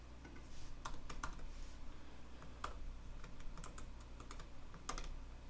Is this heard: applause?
no